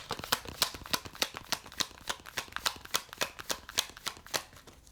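A deck of oracle cards being shuffled by hand, giving a steady run of about twenty crisp riffling snaps at an even, quick rhythm, close and fairly quiet, with no talking.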